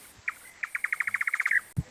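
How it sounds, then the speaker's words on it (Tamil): A played recording of an Indian nightjar gives a rapid run of about a dozen evenly spaced, accelerating chirping notes, clear and fairly close, with a faint thump near the end. "இப்ப நான் பண்ணது வந்து நைட்ஜார், இந்தியன் நைட்ஜார்."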